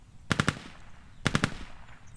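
Two quick bursts of automatic gunfire, about three shots each, ring out in a first-person shooter match on a custom server; the shots are sharp and mid-distance, separated by about a second of quiet.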